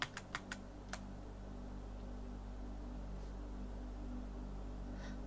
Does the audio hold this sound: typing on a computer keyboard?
yes